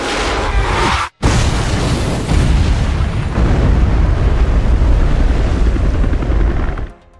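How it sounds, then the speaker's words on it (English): A loud, sustained rocket grenade explosion from Resident Evil roars with a heavy low rumble, briefly cutting out before surging back into a long, dense blast that fades at the end. "Cue the rocket grenade explosion."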